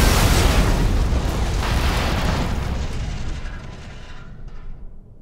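A loud video-game explosion from The Walking Dead Season 3 roars and rumbles, then slowly fades away over several seconds.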